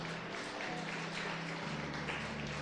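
Congregation clapping together in a church service, a dense steady wash of hands that holds evenly across the whole stretch, fairly distant, with a low hum of organ or keyboard tones underneath.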